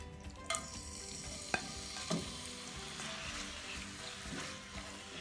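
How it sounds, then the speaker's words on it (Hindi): A chicken mixture fries in two tablespoons of oil in a pan, giving a soft, continuous sizzle with a few sharp clacks and scrapes as it is stirred. "एक पैन में मैंने 2 टेबल स्पून ऑयल लिया है। अब इसमें हम अपना जो चिकन वाला मिक्सचर है वो ऐड कर देते हैं।"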